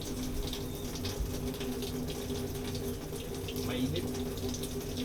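Water runs steadily from a kitchen sink tap, a continuous close splashing hiss throughout, with a brief spoken word over it.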